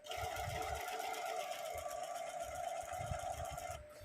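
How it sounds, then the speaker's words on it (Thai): A Brother inkjet printer running a print head cleaning cycle gives a steady, close mechanical hum with a constant whine and faint rhythmic pumping throughout, ending abruptly. "ตอนนี้เครื่องกำลังล้างหัวพิมพ์อยู่"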